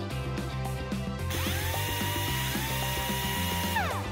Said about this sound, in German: Du hältst sie und ich schraub die Schrauben fest.